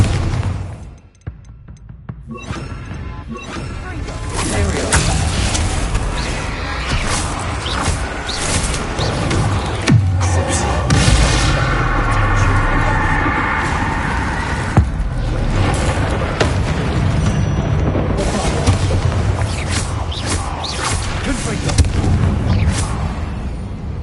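Bombarda spell explosions in Hogwarts Legacy, heavy booming blasts and rumbling impacts filling a long, dense, loud stretch of continuous game combat noise.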